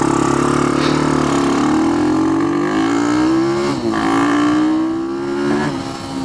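An Ohvale GP-0 190 minimoto revs hard and loud on a top-speed run, its engine note climbing through successive gears with brief dips at each shift, steady and close without any voices.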